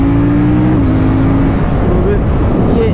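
CFMOTO 800NK naked motorcycle accelerating hard through a quick overtake on the road, loud engine pitch climbing and shifting under heavy wind rush.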